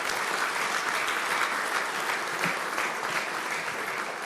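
Audience applause at a religious gathering honoring a mother, steady dense clapping that fills the whole stretch at an even level without a break.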